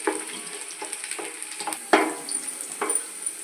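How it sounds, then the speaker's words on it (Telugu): Onions, green chillies and cashews frying in a pan for gongura chicken biryani: a steady sizzle broken by repeated scraping stirs and small spatula knocks, one louder clack midway, with no voices. "ఇప్పుడు పచ్చిమిరపకాయలు, కొద్దిగా జీడిపప్పు వేసుకుందాం."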